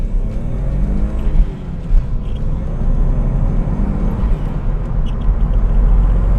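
A Mitsubishi GTO MR runs with a deep, continuous engine rumble and whir, heard close and fairly loud, with small surges in level but no voices.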